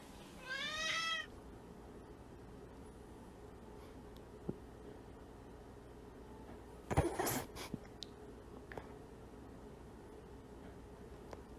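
A single cat meows once near the start, a short rising call, followed by quiet background hiss and a brief rustling clatter later on.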